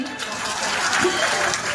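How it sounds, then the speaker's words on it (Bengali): Audience applause at a gathering, a steady, fairly loud burst of clapping from a crowd, lasting a couple of seconds with a few voices mixed in. "এবং রিপন ভাইয়ের জন্য একটা করতালি চাই"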